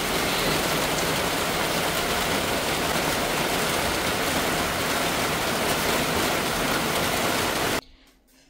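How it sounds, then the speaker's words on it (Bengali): Heavy rain pours outdoors in a loud, steady wash of hiss and patter, then cuts off abruptly near the end, leaving near silence. "আরে বৃষ্টি হতে তো ভালো হয়েছে"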